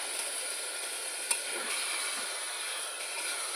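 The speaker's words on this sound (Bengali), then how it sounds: "চিকেনগুলোকে ভালোভাবে কষিয়ে নেবো।" Marinated chicken frying and being stirred in a pan during a home curry cook, giving a steady, faint sizzle with a small clink partway through and no talking.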